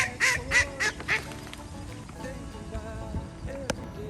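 Several loud honking, quacking duck calls come in quick succession close by, then fade into a softer background of outdoor noise with a few faint calls on the Gold Coast.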